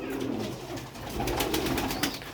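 Pigeons cooing close by, soft low throaty calls blending together over a faint rustle of birds moving, with no talk.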